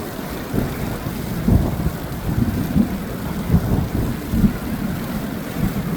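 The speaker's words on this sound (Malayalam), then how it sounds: "നല്ല ഇടിമിന്നലുണ്ട്, ഇടിവാളുണ്ട്." A thunderstorm rumbles with wind buffeting the microphone and low rolling thunder swelling in a few bursts over steady background noise.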